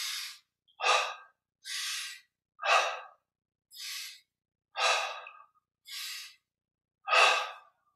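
Deep, slow breathing during a Kriya Yoga exercise: eight long breaths alternating inhale and exhale at an even rhythm, close and clearly audible with silence between breaths and no talking.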